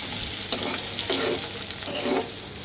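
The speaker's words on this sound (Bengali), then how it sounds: "তো চলো বেগুনগুলো আগে ভেজে তুলি।" Eggplant slices, seasoned with salt and a little turmeric, fry in hot oil with a steady, close sizzle that swells in a few louder bursts. No one speaks.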